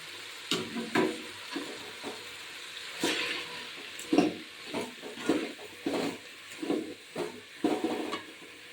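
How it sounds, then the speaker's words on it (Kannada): Ground masala goes into a pan of frying bitter gourd gojju and is stirred, with a steady sizzle under repeated scraping strokes of a spoon coming at an uneven rhythm, close and moderately loud. "ಇವಾಗ ರುಬ್ಬಿರೋ ಮಸಾಲೆ ಹಾಕ್ತೀನಿ"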